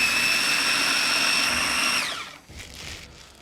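A food processor grinding chimichurri, a loud high-pitched motor whine running steadily for about two seconds before spinning down, followed by faint rattling and settling sounds.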